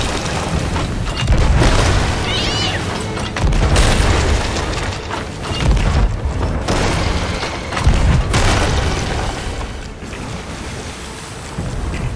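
A loud, rumbling volcano eruption in the game Sea of Thieves, with deep booming bursts and roaring noise that swells and recedes repeatedly, with a faint sweeping whistle partway through.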